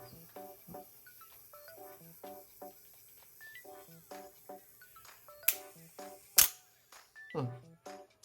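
A Nikon FM2 film camera fires its shutter during a test, giving three sharp, close mechanical snaps spaced about a second apart over quiet background music.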